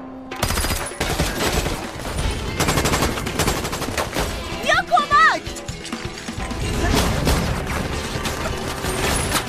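Gunfire erupts in a futuristic sci-fi film scene, with loud, repeated bursts of shots and clattering mechanical noise and a brief whistling tone in the middle.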